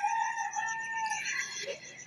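A rooster crows loudly and close among chickens on a farm, one long drawn-out call with faint clucking around it.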